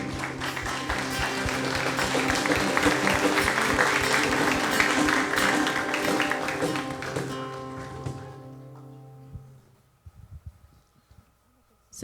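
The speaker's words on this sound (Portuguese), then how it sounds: "Você pode aplaudir a Jesus?" A youth church congregation claps along during worship, loud sustained applause mixed with music and voices that gradually fades out, leaving a few scattered sounds and near silence at the end.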